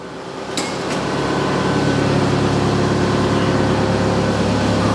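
An Arbos 2035 tractor engine revs up from a couple of sharp clanks into a loud, steady low drone that holds close and constant.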